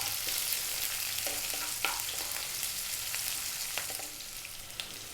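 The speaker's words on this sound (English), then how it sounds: "we're going to add 1 cup of onion. So we're on a above medium heat" A cup of onion sizzles steadily in a pan over above-medium heat, with a continuous frying hiss and occasional soft scrapes and taps as it is stirred.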